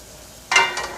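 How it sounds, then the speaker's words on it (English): Garlic hitting hot oil in a pan, a sudden bright sizzle bursting in halfway through and continuing steadily to the end, close and fairly loud. "we got the garlic now. It's sizzling very nicely."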